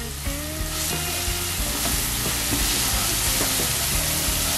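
Seven cloves of garlic fry in a few tablespoons of extra virgin olive oil with a loud, steady sizzle and hiss, stirred now and then, and no one speaks.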